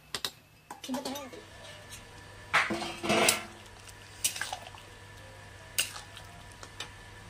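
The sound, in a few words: lid placed on pot of jackfruit curry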